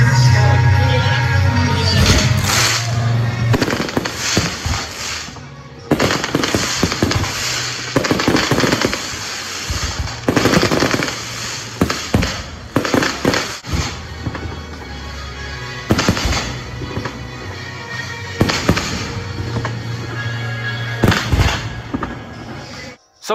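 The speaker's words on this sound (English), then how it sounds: "you're gonna have to get your hands at some point on a professional fireworks firing system like this" Fireworks set off by a professional firing system pop and bang in repeated bursts, loud and sharp, with crackling volleys spread irregularly throughout.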